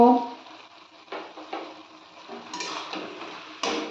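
Cabbage curry (badhakopi ghonto) being stirred in a pan after fried spices go in, a spoon scraping and clinking in short strokes over a soft sizzle, moderately near, with a few louder scrapes near the end.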